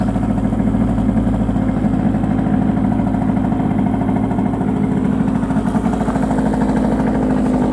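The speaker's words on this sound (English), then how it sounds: "I can guarantee this is a cold start." A Hyosung Sense 50 scooter idles after a cold start in a Norwegian winter at -5 °C. The small engine gives a loud, close, steady putter with an even, fast rhythm throughout.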